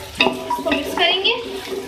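Potatoes and peas for aloo matar pulao being stirred and fried in a pot, with scraping, sizzling utensil sounds in short uneven strokes close up, and a voice present in the background.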